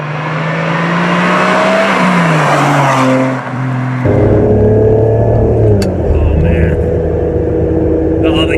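A loud Ferrari 550 Maranello engine revs up, its pitch climbing, then drops sharply on a manual gear change before pulling again, close and roaring.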